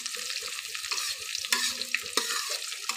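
Chopped garlic frying in a pan for a beef and potato dish, a bright, steady sizzle close by with occasional stirring scrapes and small pops, no talking.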